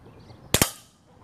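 Two sharp, close pops in quick succession from a Walther PPK/S blowback BB pistol fired outdoors at a can, each crack followed by a brief fading tail.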